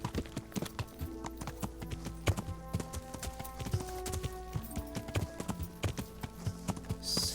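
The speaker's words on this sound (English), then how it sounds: "Downside of riding a horse through town" Horse hooves clip-clop steadily through a medieval town in Kingdom Come: Deliverance, close and distinct, with game ambience and tonal music underneath.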